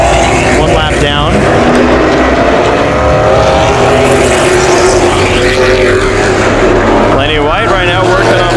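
Late model race cars roar around Havasu 95 Speedway during a 100-lap feature, a loud, continuous engine din with cars sweeping past near the start and end, under steady race commentary.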